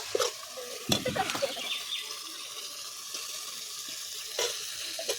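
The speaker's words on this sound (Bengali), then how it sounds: "তেল ছেড়ে দিয়েছে। এখন বড়াটা দেবো।" Fish roe fritters going into hot oil in a pan, a continuous bubbling fry with several sharp clatters and scrapes of a utensil, close and fairly loud.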